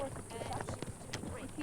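Horse hooves clip-clop on a climbing mountain trail during a horseback ride toward the Tetons, an uneven run of close hoof strikes mixed with rider movement and light wind.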